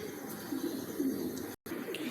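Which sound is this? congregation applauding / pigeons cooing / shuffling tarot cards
pigeons cooing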